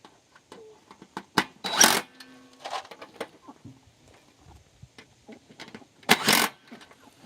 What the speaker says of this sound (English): it's probably gonna get loud because I have to tighten up all these bolts